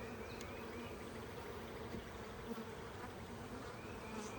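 Constant buzzing of many honeybees swarming around a hive, close and dense, with a steady hum and occasional louder passes.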